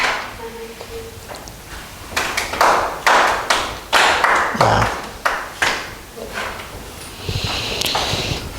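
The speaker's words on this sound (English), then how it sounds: "Let us clap in order." A math class claps in a coordinated sequence, a series of sharp separate claps in a rough rhythm, near and moderately loud, with some room noise and a short tone early on.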